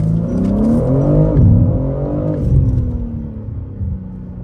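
A 2023 BMW G80 M3 Competition xDrive accelerates hard, its engine rumbling loud and close with rising revs and drops at gear changes.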